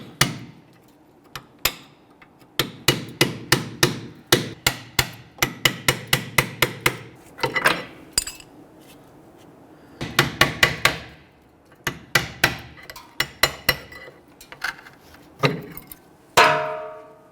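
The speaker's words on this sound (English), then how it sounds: "I'm going to use a small pry bar here with a hammer and tap these out." A hammer strikes a small pry bar repeatedly to tap out rear brake pads on a 2006-2012 Toyota RAV4, sharp ringing metal taps in quick bursts with short pauses between, close and loud in a quiet space.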